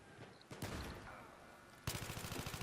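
Rapid automatic gunfire in the video game Battlefield 3, with scattered shots early on, then a loud, close, steady burst of rattling rounds near the end.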